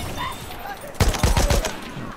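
A quick burst of gunfire in a first-person shooter, several sharp shots fired in fast succession that sound loud and close, following a stretch of quieter background game sound.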